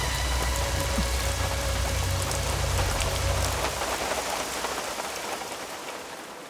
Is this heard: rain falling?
yes